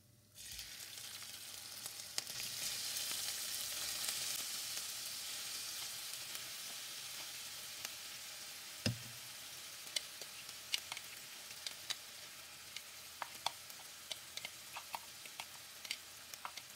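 Fish fries in hot cooking oil with a loud hiss that swells right after it goes in, then settles into a quieter steady sizzle broken by sharp, scattered pops and crackles.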